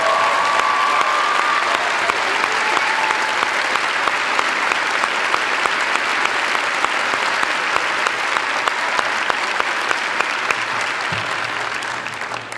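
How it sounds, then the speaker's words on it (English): Sustained applause from a large high school graduation crowd honouring two seniors, dense and steady for about twelve seconds and close to the microphone. "Would Emily Goldberg and Drew Snook please stand for a round of applause?"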